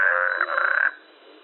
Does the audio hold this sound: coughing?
no